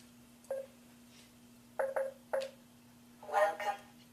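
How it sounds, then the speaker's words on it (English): An HEV charger from the game Half-Life gives four short electronic beep tones, each sitting alone over a low steady hum and followed by a burst of brighter chirping tones. "It's an HEV phone charger."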